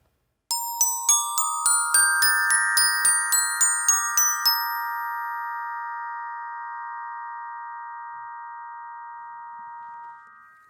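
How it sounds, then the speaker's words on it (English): Orchestral glockenspiel with steel bars struck by mallets rings out a quick run of about a dozen bright, bell-like notes, then a held final chord that hangs and slowly fades over several seconds, close and unaccompanied. "The Glockenspiel is made with steel bars,"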